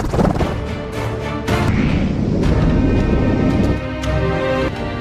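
A loud, deep explosive boom of a torpedo striking a submarine in the game The Silent Service, with rumbling aftermath, rolling and heavy, followed by sustained low roar and debris-like crackle.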